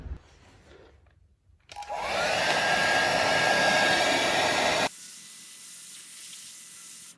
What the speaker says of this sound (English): just use hair dryer and just put it on for a minute